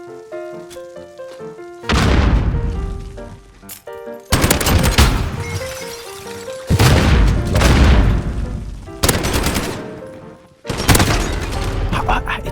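Pistol gunfire in a Modern Warfare multiplayer match, loud rapid bursts of shots in repeated clusters with booming impacts, interleaved with game music tones and a player talking.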